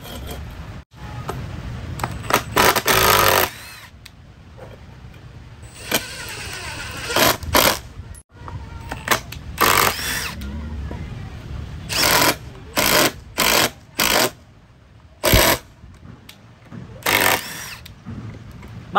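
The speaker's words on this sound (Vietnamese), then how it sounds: "Bắn ống vít ngắt lực điện tử thông minh." A cordless impact driver, model 2953-20, drives screws into iron in repeated bursts: sharp, loud stretches of rapid hammering buzz separated by short pauses, close to the listener, with no talk.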